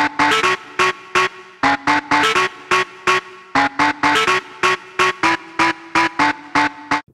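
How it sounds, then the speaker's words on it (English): Layered synth lead from a song, bright punchy stabs in a syncopated repeating pattern with short gaps, loud and upfront with a faint echo tail, no talk. "there is a lead sound in that song that is layered with a few other layers"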